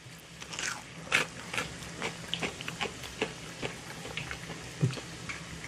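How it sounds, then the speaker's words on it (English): Repeated crisp crunches from biting and chewing a fried hush puppy, close and fairly quiet, in an uneven rhythm. "Good crunch to it."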